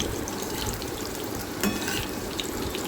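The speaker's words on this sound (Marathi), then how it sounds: "आणि त्याला आता मी दोन्ही बाजूनं मी तळून घेणार आहे" Sweet corn bhaji frying in oil in a pan, a soft, steady bubbling sizzle heard close up with a faint clink partway through.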